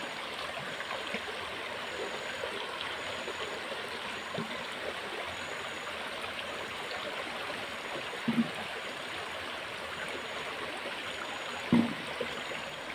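A rocky mountain stream rushes in a steady, even wash of flowing water with no pauses, with a couple of faint brief knocks near the end.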